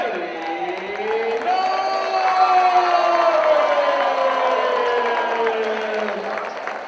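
A packed gym crowd at the 2013 boys county basketball final, Arab versus its rival, keeps up a steady, loud roar of cheering and shouting for the full stretch, with a blurred wash of many voices.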